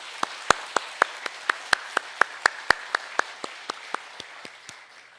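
A church congregation claps for the choir in a slow, even rhythm of about twenty crisp, distinct handclaps, strong at first and gradually fading.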